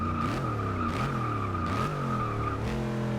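Dodge Charger Hellcat in the Forza 6 racing game spins its tires, a steady high screech over a droning, wavering engine note that rises and falls, loud and continuous throughout.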